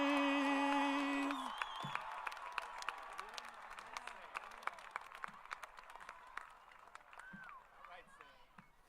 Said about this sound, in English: One more round of applause for Samuel Brown